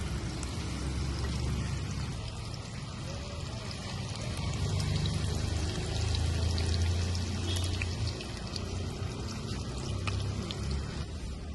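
Green chili chicken 65 pieces hit boiling oil, setting off a loud, dense, continuous sizzle and crackle that holds steady and close throughout.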